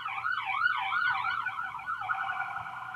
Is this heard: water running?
no